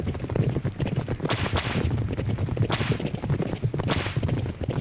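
Racehorses in the Derby Owners Club arcade game gallop in a loud, dense drumming of hoofbeats with periodic whip cracks and whooshes, the pack thundering down the final stretch.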